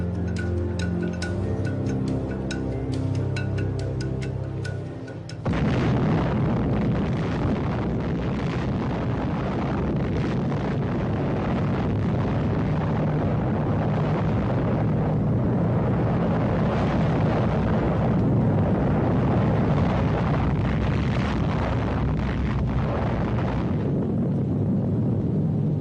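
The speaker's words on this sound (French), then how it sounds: "On l'appelle le gadget, une bombe à implosion contenant 6 kilos de plutonium" The plutonium implosion bomb called the Gadget, holding 6 kilos of plutonium, detonates: a short tonal passage gives way abruptly to a massive, sustained low roar that rumbles on for about twenty seconds.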